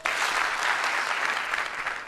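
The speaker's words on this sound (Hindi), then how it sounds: "जब भी मैं हेलो बोलूंगा आप एक बार ताली बजाएंगे" An audience claps on cue in a sustained, dense burst of applause that fills the whole moment, loud and close, with no talking over it.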